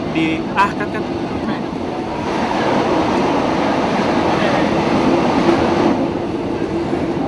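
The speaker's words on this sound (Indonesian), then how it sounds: "beginilah suasana di dalam kereta api listrik ekonomi jurusan Jakarta Bogor" Interior of an economy-class electric commuter train on the Jakarta–Bogor line: a loud, steady rumble and rattle of the moving carriage fills the whole stretch, with a faint squeal near the start.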